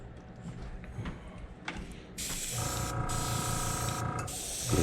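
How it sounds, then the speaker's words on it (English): An airbrush sprays paint onto a fishing lure at turned-down pressure, first faint and intermittent, then a sustained close hiss with brief pauses in the middle. "Turn my pressure down because I don't want to blow too much paint."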